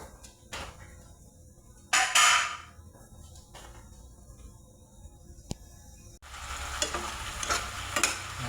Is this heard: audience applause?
no